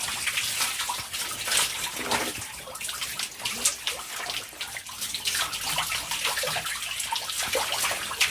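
Water splashes and pours while someone is rinsed off after soaping in a bathroom shower area, a close, continuous gushing broken by irregular louder splashes, with no talking.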